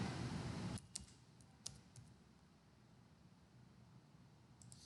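A password is typed on a computer keyboard, several faint, sparse key clicks after a brief burst of noise, quiet and close with no talking.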